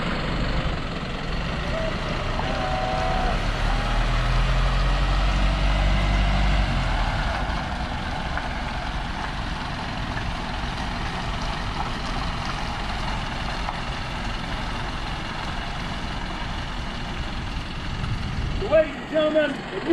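An Isuzu NRR dump truck turning a tight circle, its engine a steady low drone and road rumble held throughout, with a few clunks near the end.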